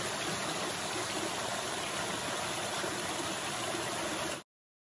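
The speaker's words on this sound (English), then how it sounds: "Little water drainage I've come across." A small trickle of drainage water on the Appalachian Trail gives off a steady, soft broadband rushing, faint and continuous, then cuts off abruptly near the end.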